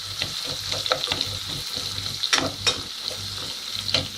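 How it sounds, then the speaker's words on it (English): Mustard seeds crackle and pop in hot oil with onion, a steady sizzle broken by sharp scattered pops, close and moderately quiet. "And with the mustard seeds, you just wait until you hear it pop."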